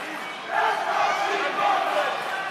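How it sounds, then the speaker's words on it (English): Fight-night crowd at a Versus Fight Night MMA event chanting a fighter's nickname in unison, a loud rhythmic mass of voices filling the arena. "As you hear the crowd chanting, "Let's go T-Bone," which is Tbang's nickname."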